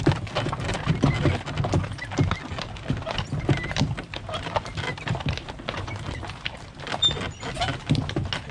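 Steady clip-clop of draft horse hooves in the Lviv region of Ukraine continues throughout, mixed with rustling and low background noise, with faint voices now and then.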